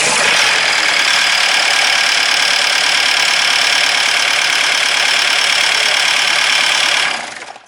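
A loud, harsh diesel engine with a Bosch injection pump fault runs steadily with a gritty, knocking rattle, close by, before cutting off abruptly at the end.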